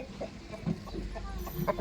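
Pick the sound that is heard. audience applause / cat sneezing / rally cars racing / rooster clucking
rooster clucking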